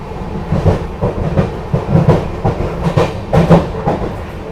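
The 20653 Belagavi Superfast Express runs along the tracks between Bengaluru and Hubballi with a steady, rhythmic clickety-clack of wheels over rail joints, loud and close, with rumbling underneath.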